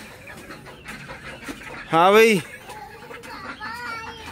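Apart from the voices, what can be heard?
chick held in hand, chirping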